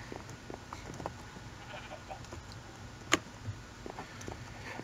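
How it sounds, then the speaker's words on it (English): Sheep in Minecraft Skyblock bleat once, sharp and fairly close, over a busy, steady game background with scattered soft clicks and faint animal noises. "There's sheep. There's colored sheep."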